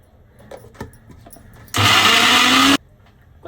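A mixer grinder grinds henna with lemon, curd and water in a single loud, steady burst of about a second, with quiet moments before and after.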